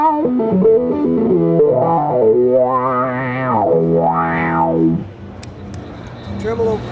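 Electric guitar through a ZVEX effects pedal with distortion, playing a loud sustained melodic line with sweeping filter-like pitch glides that rise and fall, ending abruptly into quieter noisy residue.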